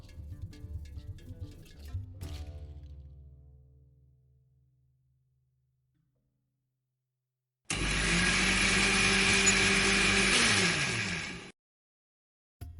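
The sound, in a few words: blender blending peeled tomatoes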